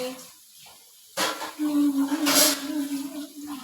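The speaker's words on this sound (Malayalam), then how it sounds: "കേട്ടോ സൗണ്ട് കേട്ടോ പാത്രം കഴുകുന്നതിൻ്റെ" Dishes being washed at a sink under running water, a steady tap stream and splashing that starts after a quiet opening second, with soft clinks; a voice talks faintly at the start.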